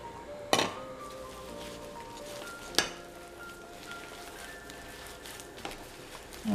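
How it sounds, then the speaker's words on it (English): A burger steak marinade is stirred in a bowl, mostly a soft quiet scraping broken by two sharp clinks of a utensil against the bowl. "I'm going to give this a good mix"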